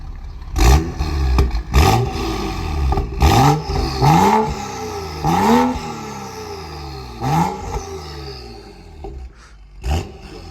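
A voice imitates a revving turbo diesel car engine, making about seven loud, rising, growling rev sweeps in an uneven rhythm, close up.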